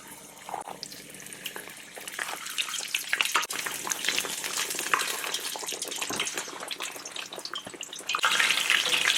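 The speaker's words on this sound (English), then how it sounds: "Just gonna fry these 3 or 4 minutes until they're golden brown." Quesadillas deep-frying in vegetable oil at 375 degrees, a dense continuous bubbling hiss that holds steady and swells louder near the end, close up with no talking.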